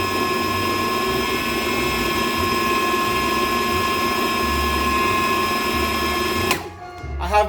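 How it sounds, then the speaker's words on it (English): A blender whirs steadily as it purées chickpeas into hummus, a constant high mechanical whine with a low churning rumble, cutting off abruptly near the end. "once you've kind of done one round on the good old blender"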